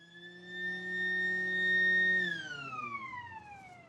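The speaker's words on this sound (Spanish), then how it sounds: "Breve toque de sirena." A short siren blast sounds before a test firing of a gun: a steady electronic wail holds its pitch for about two seconds, then slides down and fades, clear and alone.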